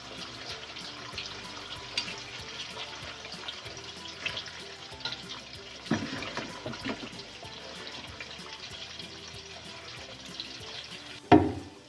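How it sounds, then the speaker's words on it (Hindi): Fish frying in a pan for a home-style fish curry, a steady broadband sizzle with occasional clinks and a louder clatter near the end as the pieces are turned. "ये देखें हमारी फ़िश फ्राई हो रही है"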